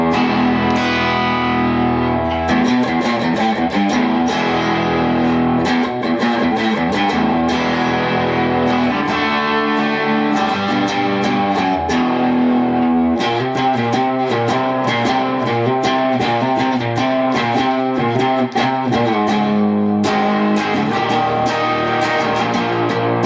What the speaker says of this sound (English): Position 1, medium distortion.